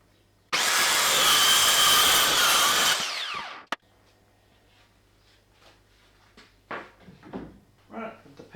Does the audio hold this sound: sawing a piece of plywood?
yes